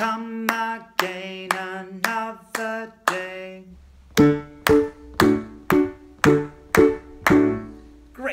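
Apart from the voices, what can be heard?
hands clapping a song rhythm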